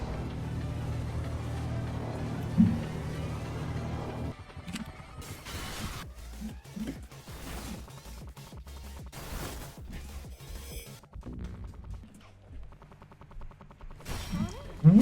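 Laser cannon fire from Tails in a Sonic.exe horror fan game, heard as a run of sharp, bright electronic blasts and crackles in quick succession after a low droning stretch, with a loud burst right at the end.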